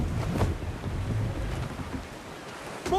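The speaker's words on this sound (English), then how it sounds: "There's a strong wind now." Strong wind rushes across a sailing schooner at sea in Assassin's Creed IV: Black Flag, a steady windy wash mixed with waves that swells toward the end, with no speech.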